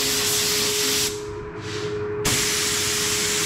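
A spray gun lays a third coat of candy red paint over a marble-effect base, giving a loud, close, steady hiss that eases off briefly midway and then returns at full force.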